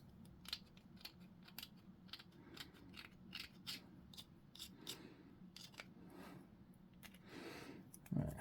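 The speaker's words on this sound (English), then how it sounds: "my damaged clippers are making it harder and harder to get a straight cut." Damaged hobby clippers snipping through a plastic tail piece while assembling a miniature model, a run of faint, quick clicking cuts repeating throughout, close to the mic.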